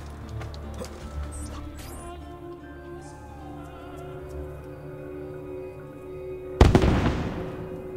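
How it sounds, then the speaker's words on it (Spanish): Firecracker explosion in Assassin's Creed 2, a single loud crackling burst near the end, preceded by ambient game music and effects. "Son unos petardos, ¿no?"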